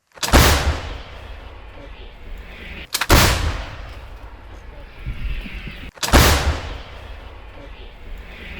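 Three booming M777 howitzer shots fire at a steady interval on the Zaporizhzhia front, each a sharp loud blast that rolls off into a decaying rumble.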